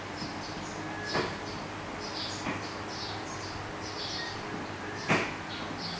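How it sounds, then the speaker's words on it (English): Birds sing outside, with faint, scattered chirps recurring at a distance through a quiet room, alongside a couple of brief clicks or knocks nearby. "You can hear some of the birds out there."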